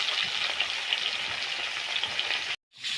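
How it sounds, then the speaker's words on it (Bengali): Small puti fish fry in oil over low heat, giving a dense, even crackling sizzle close up that runs steadily before briefly cutting out near the end. "হালকা আঁচে মাছগুলোকে এপাশ ওপাশ খুব ভালোভাবে লাল লাল করে ভেজে নেব"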